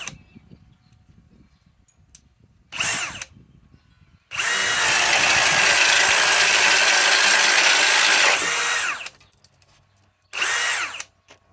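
A RIDGID high-torque hammer drill on an Octane battery drives a 2-inch Diablo bit, with two short bursts, then a long, loud, steady four-second run and one more brief burst, close up and alone.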